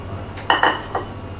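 Tagliatelle go into a pan of heated olive oil, giving a few quick clattering, clinking hits of pasta against the pan over about half a second, then one softer knock.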